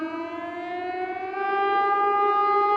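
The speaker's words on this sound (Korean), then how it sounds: "Sound the siren, Tom." A loud, sustained wailing siren with a steady tone that swells slightly as it continues, sounding alone without voices.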